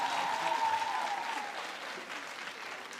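A crowd at a donation event for students breaks into applause that starts full and gradually tapers off, with a faint whistle-like tone near the start.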